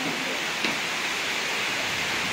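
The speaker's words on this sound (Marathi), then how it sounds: "हवा सुटली आहे आणि खूप पाऊस पडतोय" Heavy rain with wind outside gives a dense, steady wash of broadband noise that stays constant and fills the whole short stretch, with no separate sounds standing out.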